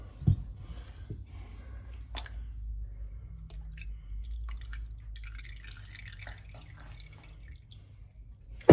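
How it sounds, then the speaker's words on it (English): Buttermilk drips from cultured butter being squeezed by hand: scattered soft drips and wet squishing sounds, fairly close and quiet, with a few sharper splats. "By squeezing it, you can get more buttermilk out"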